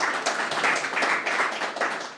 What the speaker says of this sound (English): Round of applause for both candidates and their opening statements.